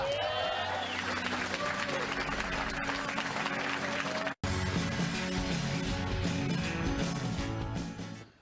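A studio audience at a late-night comedy talk show breaks into sustained applause for several seconds. A voice talks over the clapping, which cuts out briefly, resumes, and then fades at the end.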